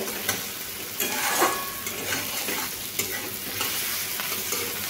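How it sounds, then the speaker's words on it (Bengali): A spiced green plantain mixture fries in a pan with a continuous close sizzle, broken by occasional spatula knocks and scrapes as it is stirred. "আমি আর একটুখানি ভেজে নেব"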